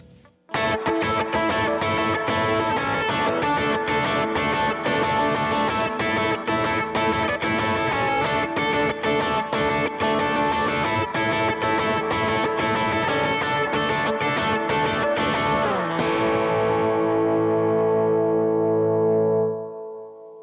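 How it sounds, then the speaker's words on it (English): An electric guitar through an overdrive pedal and hall reverb plays a loud, sustained distorted passage, ringing chords washing together before a long reverberant tail fades out at the end. "I'll switch between a hall reverb and a room reverb just to sort of show you the different sounds"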